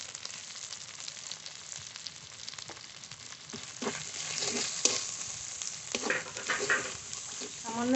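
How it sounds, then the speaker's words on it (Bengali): Spice paste for a big-prawn malai curry sizzling and frying in a pan with salt, turmeric and green chilli, stirred with scraping strokes, close and steady with louder bursts as it is moved around. "সামান্য একটু জল দিয়ে ভালো করে মশলাটা কষে নেব"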